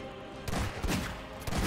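Gunfire in the horror video game Necrophobia, including a Magnum, with a quick burst of several sharp shots in a row that come loud and close.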